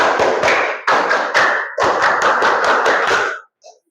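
A school class claps in unison through the 'tepuk konsentrasi' routine, loud sharp clusters of rhythmic claps in quick patterned bursts, then stopping abruptly.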